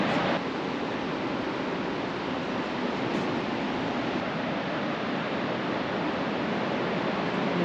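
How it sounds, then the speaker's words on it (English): Ocean surf roars at Cape Perpetua on the Oregon coast, a loud, dense, unbroken rush of breaking waves that fills the whole stretch with no talk over it. "The roaring ocean here."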